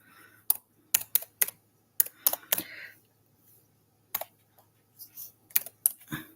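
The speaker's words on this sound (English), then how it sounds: "I'll try to manually type it in." Close, crisp keystrokes on a keyboard in short bursts and single taps with pauses between, fairly quiet with no talking.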